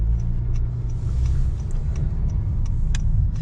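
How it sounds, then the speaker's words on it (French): A Honda Jazz with a CVT gearbox drives along, its engine giving a steady, droning low rumble with faint ticks and road noise and no talk. "le bruit du moteur pardon, est quand même assez présent, pas forcément à cause de la boîte CVT"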